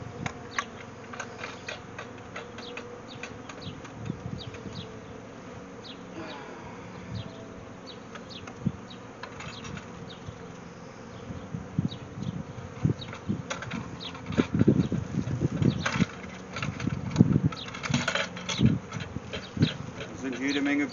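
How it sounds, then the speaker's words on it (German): Honey bees buzz steadily at a beehive, a dense continuous hum with scattered ticking and knocking, heard up close with quiet voices talking underneath. "Da sind jede Menge Bienen schon drinne."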